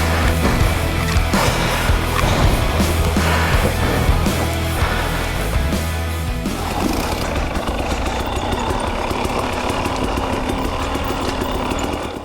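A 2020 300 XC two-stroke dirt bike engine revs and drones steadily while riding a sandy trail, loud and close throughout, with the pitch shifting and lightening partway as the throttle eases.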